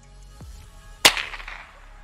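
A single sharp gunshot-like crack rings out once during K9 gunfire neutrality training for a dog, loud and close, with a short decaying tail after a faint low thump.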